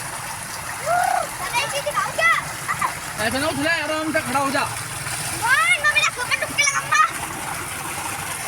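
Two young brothers bathe under a running tubewell beside a temple at night, water gushing and splashing steadily while children's voices and an adult talk over it close by.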